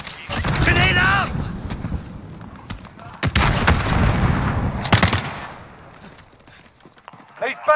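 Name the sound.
grenade explosion and gunfire in video game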